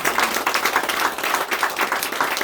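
A church congregation claps together after a deacon appointment during a Sunday service, steady dense applause from many hands filling the room for the whole stretch.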